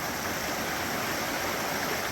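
A river flows continuously beside a hiking trail at a campsite, a dense and fairly loud rushing of water that stays steady throughout, with no voices.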